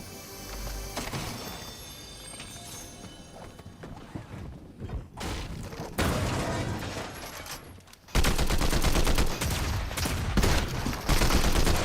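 Rapid gunfire bursts from a gold pistol in the video game Fortnite, with loud, dense shot sounds and mechanical clatter in several bursts that grow louder toward the end.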